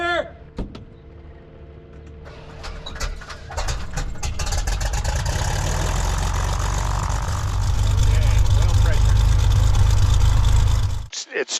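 A newly overhauled airplane engine cranks and catches after a brief quiet start, then settles into a loud, steady idle with a deep continuous rumble and propeller roar that holds for about ten seconds before cutting off.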